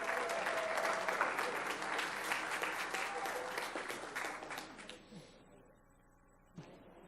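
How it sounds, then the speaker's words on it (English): Dense, loud applause from an audience at a Palm Beach County school recognition event, sustained for about five seconds before thinning out and fading, with one last brief clap near the end. "Let's give them a round of applause."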